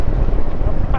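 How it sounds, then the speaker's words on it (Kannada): Cool evening wind blows across the mic on a road near Hampi, Karnataka, a close, loud, rumbling buffet lasting about a second with no speech. "ಈಗ ಮಸ್ತ್ ತಂಪು ಗಾಳಿ ಇದೆ."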